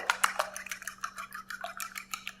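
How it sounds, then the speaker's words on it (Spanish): An egg is beaten briskly with a fork in a bowl, a fast run of light ticking clicks and taps, quiet and close, with no voices. "Entonces voy a poner aquí un huevo, lo voy a batir muy bien con un tenedor"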